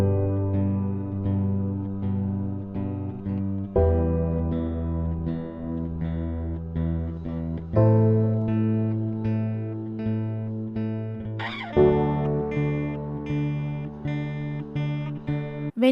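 A melodic instrument treated with reverb, a low-cut filter and reduced mids plays sustained chords that change every few seconds, steady and moderately loud with a lingering tail, no talking.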